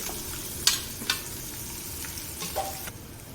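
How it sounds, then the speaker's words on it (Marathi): Onion sautés in hot oil with mustard seeds and cumin, a soft, steady sizzle broken by a few light pops and stirring scrapes. "आता जिरे टाकले तर त्यामध्ये कांदा परतून घेऊया"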